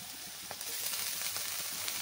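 Onions and dheki greens sizzle steadily in a hot pan, a constant crackling hiss with small pops, close and moderately loud, with no voices.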